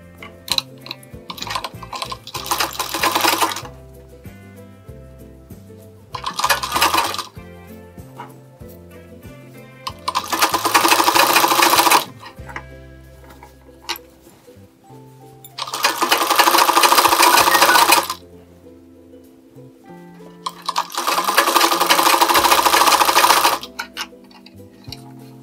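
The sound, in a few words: sewing machine stitching blouse lining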